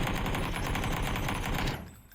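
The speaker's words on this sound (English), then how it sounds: "shots coming out from Slim Shady" Rapid gunfire in the video game PUBG during an esports match, a dense continuous burst of shots lasting nearly two seconds before cutting off sharply.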